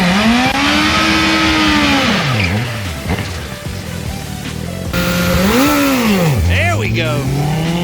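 A drag race car accelerates hard down the strip at a drag racing school, its engine note climbing through gear changes and dropping between shifts, loud and close, with talk heard alongside.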